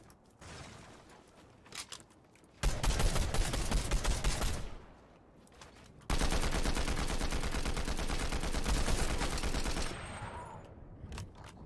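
Gunfire in the video game Fortnite: two long bursts of rapid automatic shots, loud and sustained, separated by a quieter pause with a few scattered clicks.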